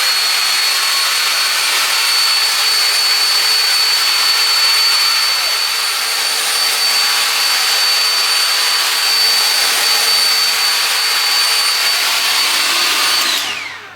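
Hair dryer blowing on a honey blonde highlight wig, a loud steady whooshing blast held for about fourteen seconds before shutting off abruptly.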